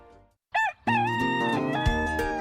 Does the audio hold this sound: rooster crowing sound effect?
yes